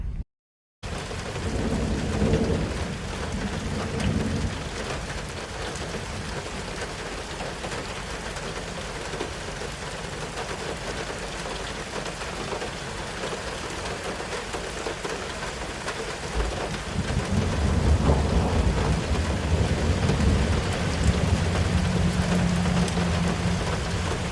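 A thunderstorm pours steady rain on a tent, with deep rolls and cracks of thunder rumbling underneath that swell louder toward the end, continuous and without talking.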